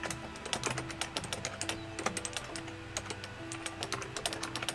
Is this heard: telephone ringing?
no